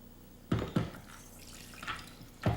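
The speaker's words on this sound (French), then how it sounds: "Placez la pompe et, finalement, stérilisez chacune des bouteilles que l'on replace sur l'égouttoir pendant quelques minutes." A sulfite sterilising pump pushed repeatedly to spray solution into wine bottles on a drying rack, giving three or four short, close, wet spurts and drips at uneven intervals, with no talk.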